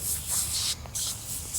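Super Clean degreaser sprayed from a trigger bottle in an open outdoor area during work on a Mercedes R107 450SL, giving close, loud hissing bursts in two main pulses with a short gap between them.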